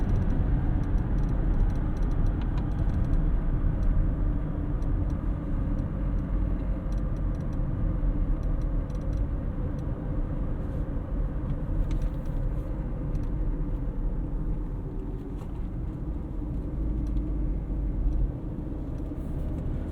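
A 2023 GMC Terrain AT4 with a 9-speed transmission accelerates on the road, heard from inside the cabin as a steady, loud low rumble of engine and road noise throughout, with no talking.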